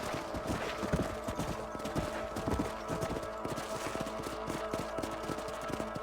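Horses' hooves clip-clop steadily in Red Dead Redemption as riders set off to patrol a ranch property, several animals trotting close and overlapping in a dense, continuous rhythm with an occasional faint whinny.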